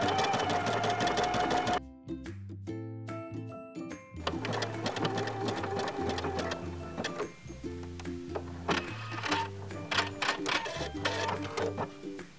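A sewing machine stitches a line along fabric to gather it, with a rapid rhythmic clatter near the mic. It stops briefly partway through, then resumes and carries on to the end.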